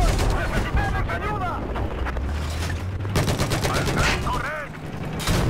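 Battlefield 4 combat fills the scene with dense, continuous gunfire, rapid automatic bursts and heavy booms layered together at close range, with a voice talking over the chaos.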